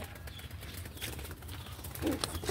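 Pigeons nearby make soft cooing and wing flutters in a close, quiet setting, with faint scattered movement sounds around them.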